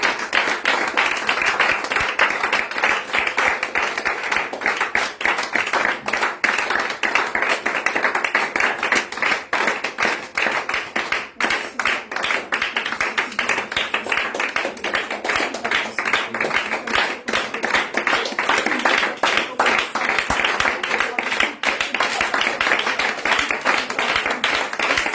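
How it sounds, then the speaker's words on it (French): A church congregation at a prayer gathering in Yopougon claps together to acclaim the Lord Jesus, a dense, continuous wall of hand claps that runs loud and unbroken throughout. "Bien-aimé, je voudrais que tu acclames le Seigneur Jésus."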